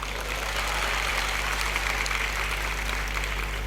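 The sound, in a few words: audience applause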